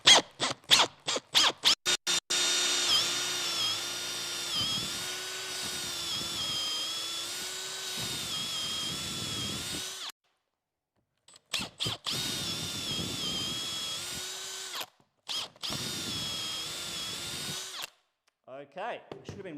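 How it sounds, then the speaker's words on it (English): Short bursts of a power drill revving, then long steady whirring runs of boring a hole in a chair with brief pauses, close and loud. "I'm going to drill that out now."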